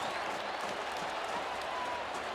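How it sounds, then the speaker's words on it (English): A football stadium crowd at an LSU versus Florida Gators game gives off a steady, broad roar of fan noise, with no individual voices standing out. "And the fans are booing"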